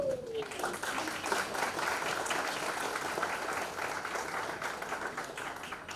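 Audience applause at a book launch event for an Indian orator and singer, a dense, steady wash of clapping from a large crowd filling the room throughout.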